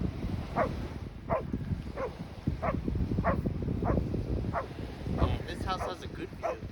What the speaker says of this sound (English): That dog is still barking.